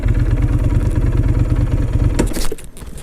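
Suzuki Boulevard M109R cruiser motorcycle engine idling close by with a deep, rapid, even pulsing rumble, then a sharp mechanical clunk as it cuts out and goes quiet.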